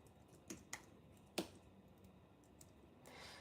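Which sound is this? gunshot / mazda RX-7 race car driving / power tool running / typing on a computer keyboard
typing on a computer keyboard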